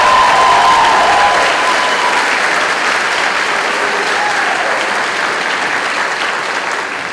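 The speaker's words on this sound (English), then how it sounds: "Give them a round of applause." A large audience claps enthusiastically, a dense, sustained wave of applause that fades slightly toward the end.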